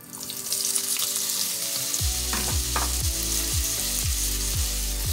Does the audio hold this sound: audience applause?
no